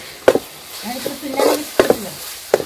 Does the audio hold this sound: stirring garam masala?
yes